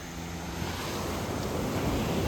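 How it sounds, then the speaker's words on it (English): Waves wash onto a clean beach on Langkawi Island, a steady, loud broadband surf roar mixed with wind noise on the microphone, with no voices. "finally you can see the clean beach,"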